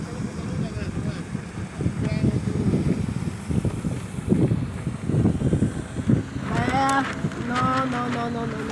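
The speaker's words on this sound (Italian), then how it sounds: "Collisione del motoscafo, attenzione!" A motorboat on the water during a sailing outing gives a rumbling, wind-buffeted drone at close range, while people talk over it toward the end.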